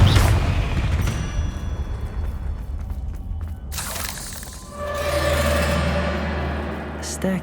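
A Confringo blasting spell goes off in the Hogwarts Legacy video game, a loud burst and crackle swelling midway amid game effects and music, with a voice briefly heard nearby.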